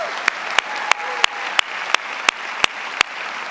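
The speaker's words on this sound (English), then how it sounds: "Let's have another round of applause." Round of applause at a university graduate ceremony, heard as evenly spaced sharp claps about every third of a second over a soft background murmur of the hall.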